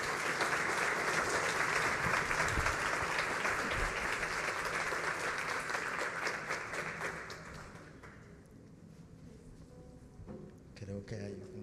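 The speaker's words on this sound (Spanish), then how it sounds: "Un aplauso para la doctora y gracias." Sustained conference audience applause, loud and dense for several seconds before tapering off, with a few voices and scattered claps near the end.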